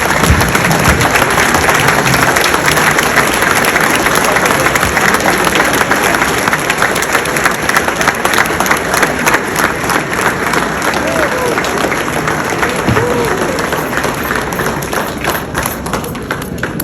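Audience applause fills a Lions Clubs International district convention hall, a dense, steady wash of many hands clapping that carries on without break and eases slightly near the end.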